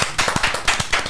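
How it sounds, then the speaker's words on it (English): Clapping hands from a small group on a podcast welcoming a guest, sharp irregular claps close and fairly loud, heard alone for about a second. "Give her a round of applause, everyone."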